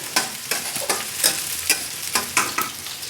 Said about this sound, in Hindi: इसको भून लेना है हमें। गोल्डन ब्राउन होने तक भूनना है।